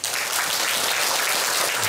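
A church congregation bursts into steady, dense applause at an elder and deaconess ordination service, a continuous wash of many hands clapping with no voices over it.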